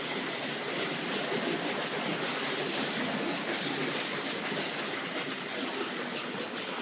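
Tri-ang model railway trains with goods wagons run on a layout, giving a soft, continuous rolling rumble and faint clatter of small wheels on track, steady and unbroken throughout.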